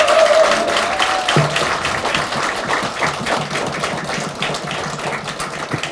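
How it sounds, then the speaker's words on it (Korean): Applause from party members at a political gathering in Daegu, a moderate crowd clapping steadily at mid distance, with a faint tone and a low hum in the room. "큰 박수 다시 한번"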